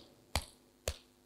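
Two sharp, close hand claps, evenly spaced about half a second apart, stand out against a quiet room as a demonstration of tasfiq clapping during prayer.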